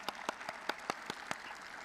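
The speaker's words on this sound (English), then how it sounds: "big round of applause for our graduates." A small group claps sparsely for graduates at a radiography and health sciences pinning ceremony, with about eight distinct, spaced hand claps over a quiet room.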